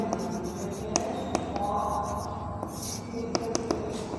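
Chalk or marker writes out a maths solution on a board, with soft scratching strokes and several sharp taps scattered through a few seconds, close and clear.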